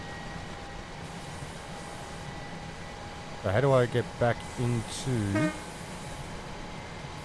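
A train in the video game Train Sim World 4 runs with a constant low hum and a steady tone, while someone talks over it in the middle.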